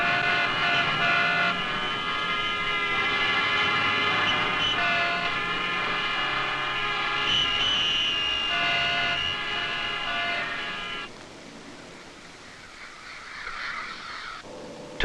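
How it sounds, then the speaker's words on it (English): Bumper-to-bumper rush-hour city traffic from 1967 forms a dense, steady roar layered with sustained, tonal horn blasts, then thins abruptly to a quieter rumble near the end. "Bumper-to-bumper, air-polluting, rush-hour traffic has become a way of life."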